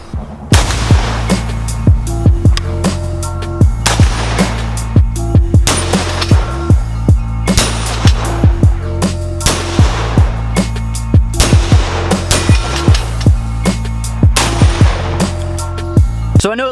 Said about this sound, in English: Got the AR here. Let's go ahead and throw some rounds.